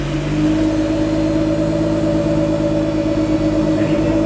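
A Nissan Skyline R33 GTR idles and hums steadily with a test pipe fitted to its current exhaust, a loud constant drone with only slight wavering in pitch.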